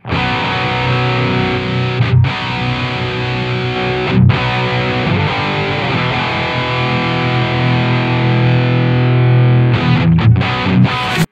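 Heavily distorted electric guitar played through an Amplitube 5 metal amp sim on the focused mid setting, thick sustained chugging chords with a few brief breaks, loud and alone.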